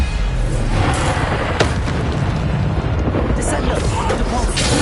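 A Bombarda blast spell goes off in the Hogwarts Legacy video game as a loud, sustained rumbling boom that fills the whole stretch, with voices faintly mixed underneath.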